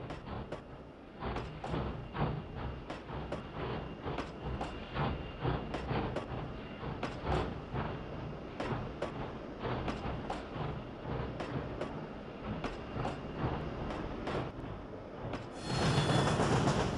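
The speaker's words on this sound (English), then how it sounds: "Here we find our eastbound train exiting Mud Tunnel" A Denver & Rio Grande Western narrow gauge eastbound train exiting a tunnel in Trainz 2009: steady rolling rumble with regular sharp clicks of wheels over rail joints, ending in a louder hissing burst.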